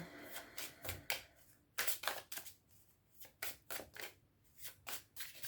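Rapid bursts of tarot card shuffling, riffled in quick rhythmic flurries with short pauses between, close and crisp.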